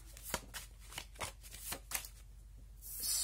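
Tarot cards being shuffled by hand in a quiet room, about eight crisp riffling bursts in a steady rhythm, close and fairly soft, ending in a brief hiss.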